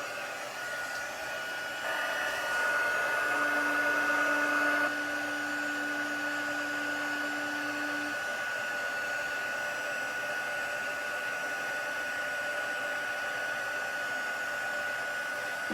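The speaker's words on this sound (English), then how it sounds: "I'm gonna get my heating tool, and I'm gonna emboss from the bottom." A heat embossing tool blows hot air in a steady, close whirring hum with a high whine, rising slightly in loudness and then holding even for the rest of the stretch, with no talking.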